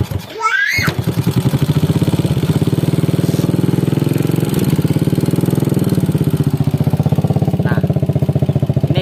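A motorcycle engine catches after a brief start and settles into a steady, loud, close idle with an even rhythmic putter, during a check for white exhaust smoke after the engine was taken apart.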